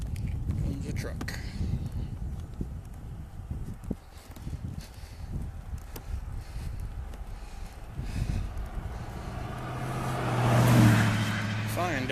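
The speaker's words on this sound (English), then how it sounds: "Comes a truck." A truck approaches and passes close by on a roadside, swelling into a loud rumbling whoosh toward the end, with wind and footsteps from someone walking along the road.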